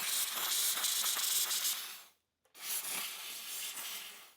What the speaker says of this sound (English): Some violent steam cleaning is ongoing.